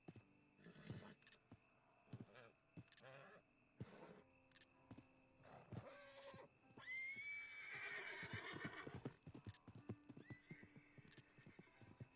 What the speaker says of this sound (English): This horse is over there having a panic attack.